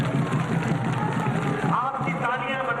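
A rally crowd in Bardhaman applauds and cheers at a political speech, a dense continuous roar of clapping and voices that holds steady and loud throughout.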